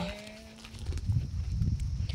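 A grazing cow in a Nepali village gives one short, low moo near the start, followed by soft rustling and movement.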